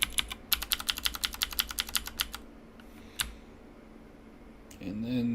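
Fast typing on a computer keyboard while setting up a PHP kiosk program, a rapid run of close, crisp key clicks for about two seconds, then a lone keystroke and a quiet stretch with a faint background voice near the end.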